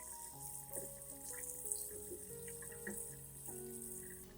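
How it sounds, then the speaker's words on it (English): Tap water runs steadily and quietly as an orchid plant is rinsed beneath it, with faint splashing and gurgling as the stream hits the roots and leaves over a low, constant flow. "we'll rinse the entire plant under clean running water"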